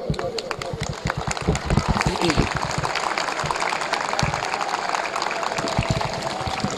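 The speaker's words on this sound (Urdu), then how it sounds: "اپنے طلباء کو خصوصی طور پر ریکویسٹ کروں گا کہ کھڑے ہو کر ان کے لیے تالیاں بجائیں" Steady, loud applause from a standing student audience at a government college building inauguration, dense clapping throughout with some voices mixed in.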